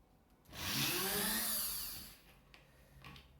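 A small drill with a 1 mm bit bores into metal in one short, high whirring burst of about a second and a half, then falls back to a quiet room.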